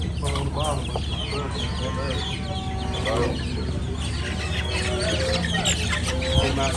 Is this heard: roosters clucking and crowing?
yes